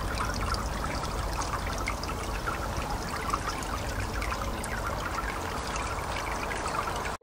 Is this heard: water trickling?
yes